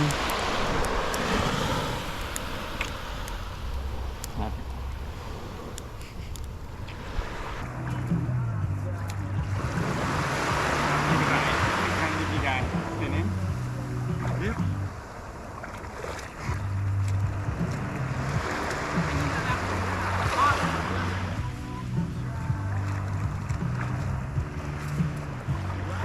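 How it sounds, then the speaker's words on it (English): A small dinghy out on open sea water during a sailing trip, with a steady wash of wind and water and a low motor-like hum rising and falling; people talk over it at times. "Little dinghy."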